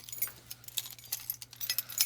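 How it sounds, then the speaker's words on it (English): Keys taken from a pocket jangle and clink in quick, light bursts close by, faint and alone, during a toy unboxing. "Oh, I have my keys in my pocket"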